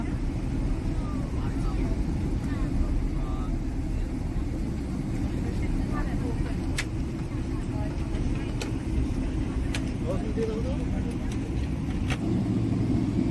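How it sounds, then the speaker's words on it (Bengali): Inside a passenger airliner flying Dubai to Kolkata, a steady loud cabin rumble and engine roar fill the air as the plane speeds down the runway for takeoff, constant and unbroken, with faint ticks over it. "রানওয়েতে উঠে পড়েছে, আমরা রানওয়েতে চলে এসেছি। স্পিড নিয়েছে, সাই সাই করে উড়ে যাবে এবার।"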